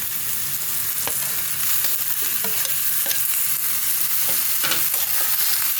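Half-fried mushrooms crackle in a pan over a steady, loud sizzle, with a spoon clinking and scraping now and then as they are stirred, up close and without speech.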